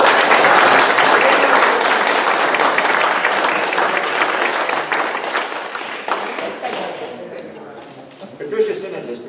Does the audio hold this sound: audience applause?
yes